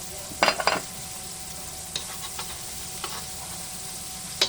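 Onions sautéing in a pan for carbonara give a low steady sizzle, with a burst of sharp spoon-on-pan clinks near the start and a few lighter taps and scrapes afterward, close and with no talking.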